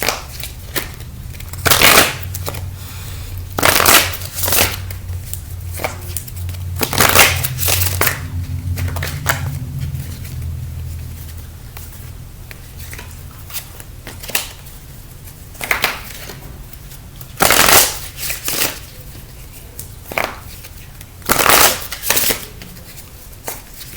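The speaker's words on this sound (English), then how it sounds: "Let's pull a few cards." Tarot cards being shuffled and pulled, giving repeated sharp riffling and slapping bursts every few seconds, close and fairly loud, with a low hum between them.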